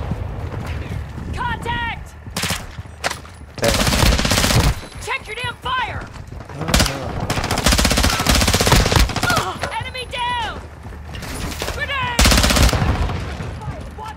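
Repeated bursts of automatic gunfire in the Call of Duty MW2 DMZ shooter, loud and close, with rapid volleys separated by short pauses while voices talk over the action.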